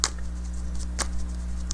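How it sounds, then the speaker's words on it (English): Tarot cards being shuffled by hand, soft papery riffles and taps in short bursts over a steady low hum, close and fairly quiet. "let's shuffle it"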